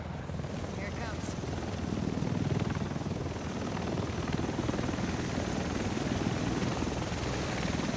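A plane flying overhead in Tom Clancy's The Division video game, heard as a continuous loud engine roar with a throbbing, rotor-like texture, with voices faintly underneath.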